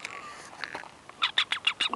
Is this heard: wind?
no